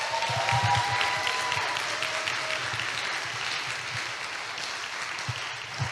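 A church congregation claps after elderly members sing a special offering song, a broad sustained applause that slowly tapers, fairly soft and somewhat distant in the sanctuary.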